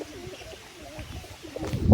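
A pigeon coos in soft, repeated low rolling calls from close by, with slightly louder rustling and movement building toward the end.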